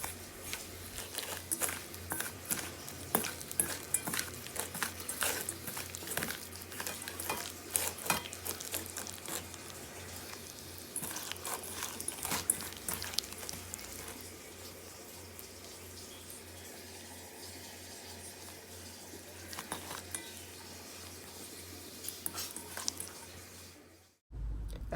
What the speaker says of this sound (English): you want to give it a good mix with your hand till all the bananas are completely covered